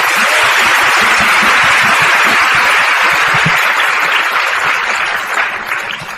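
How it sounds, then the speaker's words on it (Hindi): Loud, dense applause from a live satsang audience, sustained claps filling the space and tapering slightly near the end. "इसकी बात पे तालियां बजाओ।"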